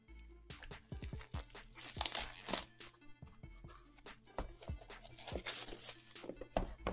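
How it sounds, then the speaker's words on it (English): AGM PAD T2 tablet box packaging being peeled open: close, crinkly tearing and crackling in uneven bursts, with sharper rips around the middle and no talking. "Let me go ahead and just peel this up."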